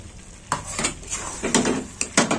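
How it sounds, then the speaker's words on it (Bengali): Spoon stirring coriander chicken (dhania murg) in a pan, a few scraping, clinking strokes against the metal with light sizzle underneath, close and fairly loud, no talking. "আর একটু নেড়ে চেড়ে নেবো।"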